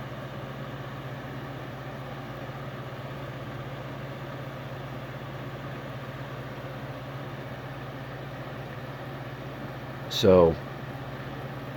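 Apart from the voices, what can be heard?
vintage 1990s Capehart 40 pint dehumidifier running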